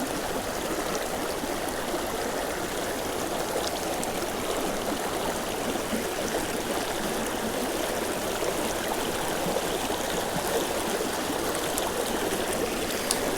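Steady rushing water of mountain stream rapids near a waterfall, a constant close broadband wash with no pauses or voices.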